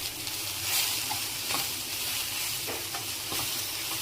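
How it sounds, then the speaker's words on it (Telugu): Chili powder, turmeric, coriander powder and ginger-garlic paste get stirred in a sizzling pan, a continuous close fry with soft scraping strokes of the spoon and no talking. "ఈ మిశ్రమాన్ని అయితే బాగా కలపాలండి."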